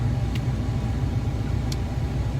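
Steady low engine and road rumble from inside a moving car, continuous and even with no talk, broken by two faint high clicks.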